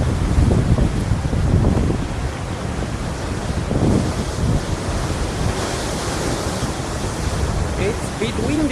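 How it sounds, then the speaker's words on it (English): Strong wind gusts buffet the microphone on a North Devon beach, with surf rolling continuously underneath, loud and close throughout. "It's a bit windy today."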